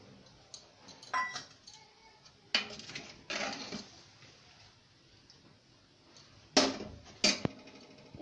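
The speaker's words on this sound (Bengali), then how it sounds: "এবার নেড়ে মিশিয়ে নিতে হবে।" Khichuri stirred and mixed in a pot, village style: scattered metallic scrapes and clinks of a spoon against the pot, some in short bursts and a few sharper knocks, against a quiet background.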